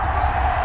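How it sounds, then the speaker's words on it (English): A stadium crowd roars at an American football video game, Dallas against the Steelers, as a dense, loud, continuous wash of cheering in a short burst. "Crowd getting in it a bit already."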